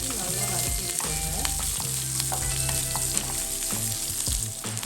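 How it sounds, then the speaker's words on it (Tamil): Chopped small shallots sauté in a pan with a loud, continuous sizzle and crackle, accompanied by stirring scrapes and knocks near the pan. "நாலஞ்சு சின்ன வெங்காயம் பொடியாக கட் பண்ணி எடுத்து வச்சுருக்கேன், அதையும் வந்து சேர்த்து நல்லா வதக்கி விட்டுருங்க"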